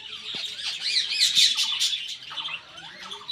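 Several birds squawk and chatter in quick, overlapping harsh calls, fairly close and continuous over a quiet background.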